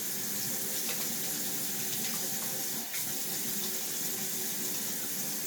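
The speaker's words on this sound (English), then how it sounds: "I'm going to get the water going again." Water running steadily from a bathroom tap into a sink, a continuous close splashing rush with no talking, heard while washing with eyelash shampoo.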